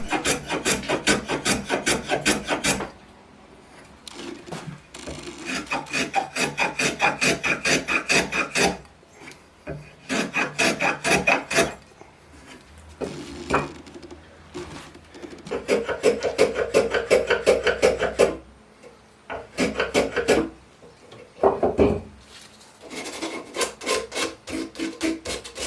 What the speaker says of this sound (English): we'll take the block plane again, and I don't know how many times I've said chamfered, but we're going to chamfer the outside edges of this as well